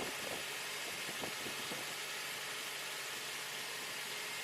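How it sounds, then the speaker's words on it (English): A 2004 Toyota Tacoma engine idles steadily with its cooling system cap off, a constant broadband hum with a few faint ticks early on, close and even throughout without pauses; the engine has a complaint of overheating and running rough. "right now the vehicle is just at an idle"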